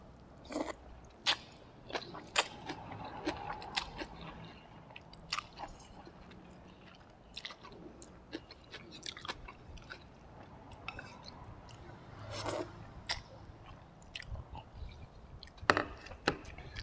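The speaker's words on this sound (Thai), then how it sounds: "มากินก๋วยเตี๋ยวน้ำตกน้ำกันเด้อจ้าแซ่บๆ เลย" Someone eats pork noodle soup with thin rice noodles, giving close, irregular bites, slurps and crunchy chewing sounds in scattered bursts against a quiet background.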